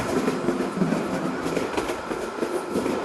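A train rolls steadily along the track in the Train Simulator Bangladesh game, a continuous rumbling roar with faint rhythmic clatter and no voices.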